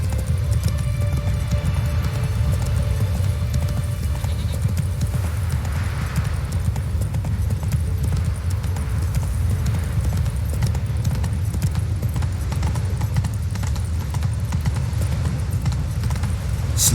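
Roach the horse gallops through The Witcher 3 video game world, hooves beating a steady, continuous rhythm for the whole stretch over a low rumbling bed, with no talking.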